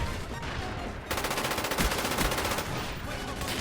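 Rapid automatic fire from an AK-74U submachine gun in the shooter game Call of Duty: Black Ops, a dense, loud stream of shots that begins about a second in and keeps going over steady background game noise.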